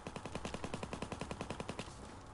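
Strafing machine-gun fire from an enemy aircraft in a military video game, a steady rapid string of about twenty evenly spaced loud shots that stops abruptly near the end, alone without talk.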